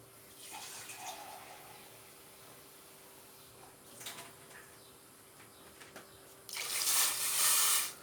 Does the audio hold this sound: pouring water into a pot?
yes